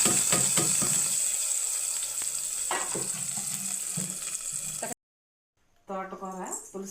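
Hot oil tempering of crushed garlic, dried red chillies and cumin sizzles and crackles loudly and steadily for several seconds, then cuts off abruptly; after a short silence, a voice speaks.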